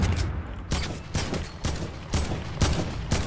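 Heavy assault rifle fire in Fortnite, loud sustained bursts of automatic gunfire repeating in a regular rhythm of about six bursts, each burst sharp and dense, with no talking.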